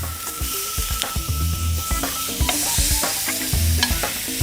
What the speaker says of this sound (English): I love that sizzling noise.